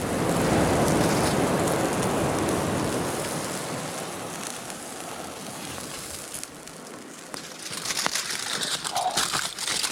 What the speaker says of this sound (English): Stay going into the foil to rest. What is that? That is just tin foil.